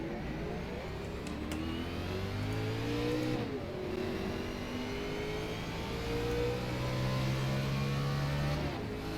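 Race car in a sim racing league game on an oval at Iowa, its engine droning steadily with rising and falling pitch as it accelerates and shifts, a second car's note layered alongside, moderately loud with no talk.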